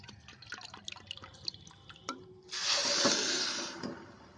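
About one and a half bowls of water is poured onto a bowl of sugar to start a syrup, after light drips and clinks, a close, rushing splash for about a second and a half, then tapering off.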